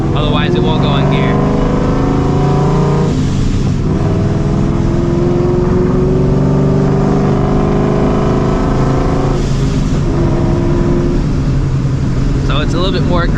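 A supercharged 450 hp 2V Ford Mustang GT with an aggressive McLeod clutch drives steadily, its loud engine droning and shifting pitch as it pulls through gears, with brief revs rising and falling throughout.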